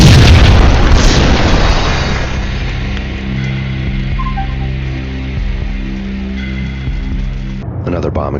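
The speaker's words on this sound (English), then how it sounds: "Another bomb exploded inside the closest slum building" A loud bomb explosion inside a slum building in Max Payne Mobile, opening with a heavy boom that decays into a long, rumbling roar lasting several seconds before cutting off.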